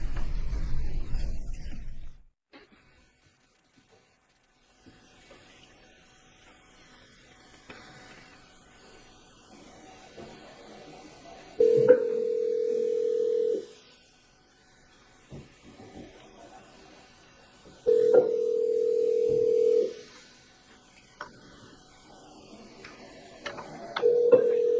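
A telephone call on a recording played in a courtroom trial rings out unanswered toward voicemail: three steady ringback tones about six seconds apart over a faint hiss, with a short burst of noise at the start.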